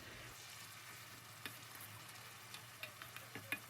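Pork ribs stir-frying in caramelized brown sugar for a Vietnamese-style braise, a faint steady sizzle with occasional soft clicks and taps of stirring, alone and quiet.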